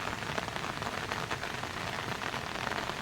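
Heavy monsoon rain pouring down steadily, a dense continuous hiss of drops hitting surfaces with no pauses or voices.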